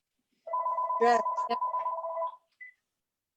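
A telephone rings with a loud, close electronic trill lasting about two seconds, then a short tone follows, and a brief spoken word overlaps it.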